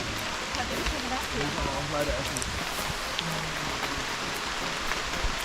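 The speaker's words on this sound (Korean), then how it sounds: "오, 비가 엄청 내려." Heavy rain pours down at a hot spring in Krabi, Thailand, a dense, steady hiss of drops close by, with scattered voices talking over it.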